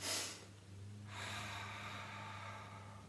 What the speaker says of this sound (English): This is three short breaths through the nose and then one long breath exhale.